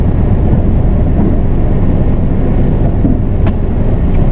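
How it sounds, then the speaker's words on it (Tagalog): Loud, steady low rumble of an automatic car rolling forward after the brake is released, a continuous road and engine drone heard from inside the vehicle with no talk. "Kapag ating pinakawalan yung ating preno, automatically aandar na agad yung ating sasakyan."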